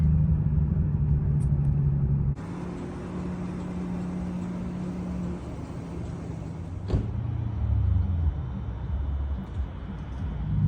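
A big-turbo Nissan GT-R being driven, heard from inside as a steady, muffled engine drone and road rumble with a brief louder swell near the end.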